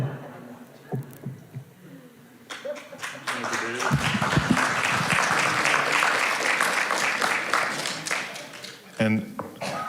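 A church congregation at a Sunday service breaks into loud sustained applause lasting several seconds, with talking before it starts and a voice returning as it fades.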